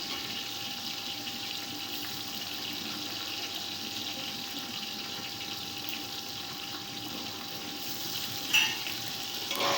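Onions and tomatoes fry together in a pan for white chickpea pulao, giving a steady broadband sizzle with no break for nearly ten seconds. A brief clatter sounds near the end, and nobody speaks.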